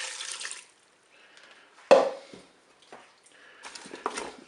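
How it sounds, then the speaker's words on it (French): Broth poured into a pot for a salmon and leek gratin, heard as a short liquid splash and gurgle in a quiet kitchen, followed by faint water and drip sounds. "Je verse mon bouillon."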